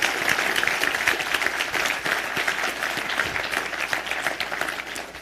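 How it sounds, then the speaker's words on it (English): Audience applause at a union town hall with Governor Murphy, a crowd clapping steadily in a dense sustained roar of hands that tapers slightly toward the end. "Let's give him a big round of applause here."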